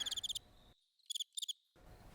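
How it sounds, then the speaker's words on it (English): A cricket chirps inside a studio in quick bursts of rapid pulses, loud and close, with a brief silent gap between the bursts. "How did a cricket get inside the studio?"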